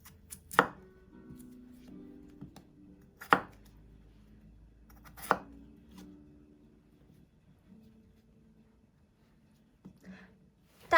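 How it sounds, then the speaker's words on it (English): A knife chops through peeled potatoes on a board, cutting them into quarters: three sharp, distinct chops spaced about two and a half seconds apart, with a fainter knock near the end in an otherwise quiet room. "you're going to cut them into quarters"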